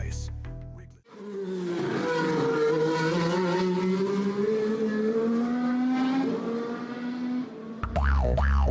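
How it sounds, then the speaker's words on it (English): Race car engines roar loudly and continuously with rising pitch at an Albert Park race in Australia, sustained for several seconds after a brief gap, then a new engine burst at the end. "Engines roar, it's time to fly."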